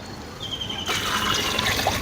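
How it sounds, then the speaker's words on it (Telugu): Water is poured into a cooking pot for a village-style potato curry, a sudden steady splashing stream that starts after a brief quiet moment and continues close and loud. "నీళ్ళు పోసేదా"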